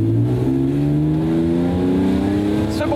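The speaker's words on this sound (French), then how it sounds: "Le bruit métallique du S54 là, c'est vraiment un truc vraiment top." A BMW M3 E46 with its S54 engine revs hard and close, a loud metallic engine note with rising harmonics filling the whole stretch.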